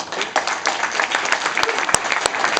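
A film screening audience applauds to welcome director Brian Yuzna, with brisk, loud clapping from a crowd in a theater, dense and continuous with a few sharper individual claps standing out.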